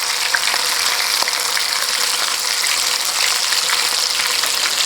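A burger patty seasoned with salt and black pepper sizzles loudly and steadily on a hot surface as it browns on one side, a dense continuous frying hiss heard close up with nothing else over it.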